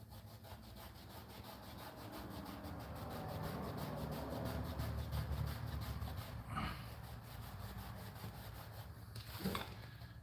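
A small rasp file scrapes back and forth inside a puncture hole in a Suzuki DRZ motorcycle tire, a quiet, gritty rhythmic rasping with a couple of sharper clicks near the end.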